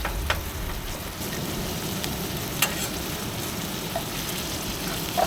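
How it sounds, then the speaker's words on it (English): Emu meat sizzling steadily in a pan on an outdoor beach, a dense continuous frying hiss with faint pops and a few sharper crackles, close and unbroken, no voices. "just gonna roast it from the both sides"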